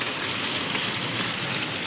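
Heavy rain pours down steadily in Hubli, a dense continuous hiss of drops hitting surfaces with no pauses and no voices.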